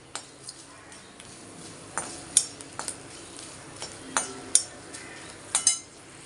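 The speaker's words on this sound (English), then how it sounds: "Peanut and the dal is fried." Peanuts and dal fried and stirred in a pan for banana flower puliyogare, heard as a spoon lightly scraping and clinking against the pan in sparse, irregular taps at a quiet, close level.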